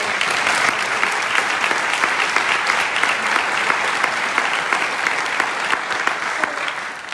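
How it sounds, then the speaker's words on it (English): Audience applause at a voter-registration kickoff meeting, a dense, steady roomful of clapping sustained for several seconds and tapering slightly at the end. "So a big round of applause for"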